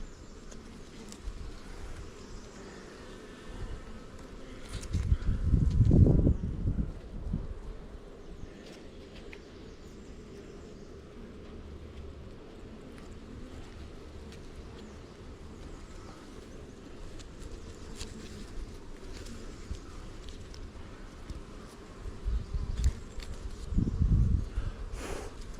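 Honeybees buzz around open hives during a full inspection, giving a steady close insect drone with louder swells as bees pass near, heard alone without talk.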